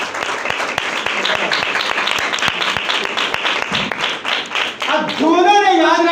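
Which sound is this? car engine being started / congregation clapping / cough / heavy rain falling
congregation clapping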